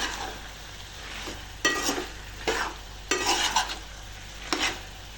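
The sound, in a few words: stirring chicken with masala and coriander powder in pan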